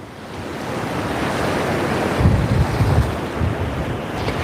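Ocean surf breaking off the Hawaii coast, a steady broadband wash of waves with low rumbling surges, heavy wind buffeting on the microphone, no voices.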